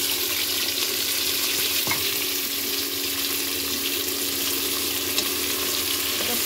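Tomatoes frying in a pan with browned onions, a dense continuous hiss and sizzle heard close up, with a faint clunk of utensils and no voices.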